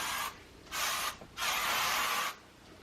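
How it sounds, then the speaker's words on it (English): Chi Firm Hold hairspray hisses onto curled hair in two close bursts, a short one and then a longer one, with a brief pause between them and no talking. "then just spray it all good with your hairspray"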